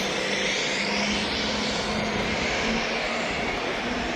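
Propeller airplane flying over Juneau, Alaska on a busy cruise-ship day, a steady moderately loud engine drone with a faint propeller hum throughout, no talking.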